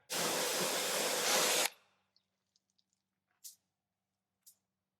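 Water spray rinses soap off a car's waxed paint in a loud, steady hiss for just under two seconds, then cuts off, leaving a few faint drips and splashes.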